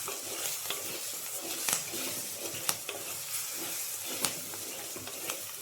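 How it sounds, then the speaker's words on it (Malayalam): Green chillies sizzle in a hot pan while they are stirred, a continuous frying hiss broken by scraping and tapping of the stirring utensil and no speech. "ഇത്രയും ഇട്ട് ഒന്ന് ഇളക്കുക"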